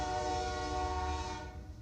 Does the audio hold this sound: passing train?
yes